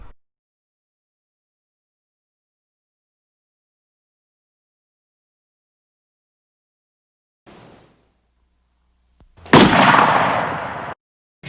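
Movie gunfire and explosions: a brief muffled thump, then after a pause one loud, broad explosive blast that roars for about a second and a half before cutting off, with silence before it.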